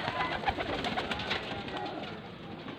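A clutch of baby pigeons from a breeder's loft, including golden and Sialkoti birds, cooing in soft repeated throaty calls, close and continuous over a low background.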